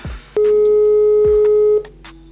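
Phone busy tone right after a call is hung up, loud and steady, holding for about a second and a half between brief clicks and faint background sounds, with no speech.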